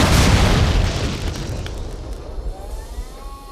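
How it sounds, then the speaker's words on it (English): A loud explosion booms from a pit, its heavy low rumble bursting at the start and slowly decaying into a lingering roar with scattered crackles. "Okay, I think we've had an explosion."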